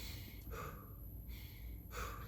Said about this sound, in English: That's a very shallow type of breathing, and that's the one that most people do, where the breaths are very short.